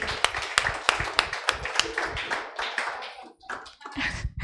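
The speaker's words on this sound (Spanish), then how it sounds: "vamos a darle un aplauso a ellos" A congregation claps for children, individual sharp hand claps standing out in an uneven, fairly sparse rhythm rather than a dense roar, with brief gaps and some background voices near the end.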